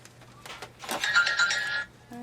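A mobile phone rings in a workshop with an electronic cutting machine and laminator nearby, its bright electronic ringtone sounding for about a second before another short tone begins, with no one talking.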